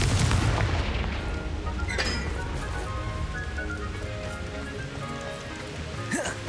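Confringo fire spell blasting in the Hogwarts Legacy video game, a dense, sustained roar of crackling explosions and booming impacts with sharp clinks, loud and continuous throughout, no speech.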